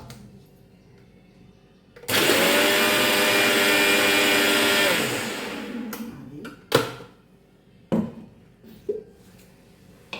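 A mixer grinder whirs loudly for about three seconds as it churns buttermilk, then stops, followed by a few scattered knocks and clatters of the jar.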